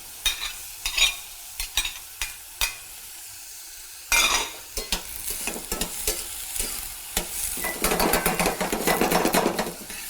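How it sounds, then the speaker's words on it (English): Courgette and carrots sautéing in a pan: sharp scraping taps of a utensil at first, then a rising, continuous sizzle with busy stirring and clatter, close and fairly loud, no speech. "So I have to saute them nicely."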